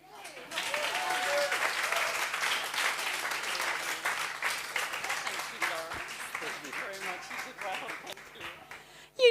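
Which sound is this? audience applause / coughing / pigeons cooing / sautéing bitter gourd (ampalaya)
audience applause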